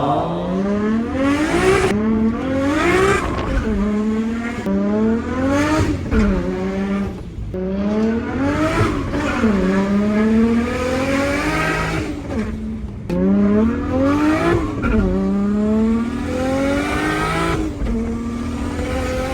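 A Nissan Skyline's RB26 engine revs hard through repeated gear changes, rising in pitch again and again, loud and close, with brief dips between pulls.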